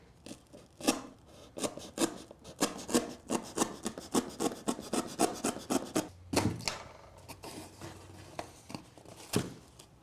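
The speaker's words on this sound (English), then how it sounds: "get your handy dandy box cutter, and we're gonna cut this square out" A box cutter slices a square out of a cardboard box, giving a rapid series of close, scratchy rasping strokes in bursts that slow toward the end, with a low thump partway through.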